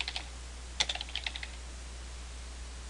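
A few soft computer keyboard keystrokes enter labels into a spreadsheet model, tapping in two short clusters near the start over a steady low hum, then fading to quiet.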